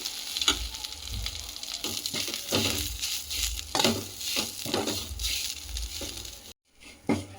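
Mint leaves fry in a pan for tomato chutney, a close, crackling sizzle broken by repeated scraping stirs that arrive in uneven bursts, with a brief silent gap near the end and no talking.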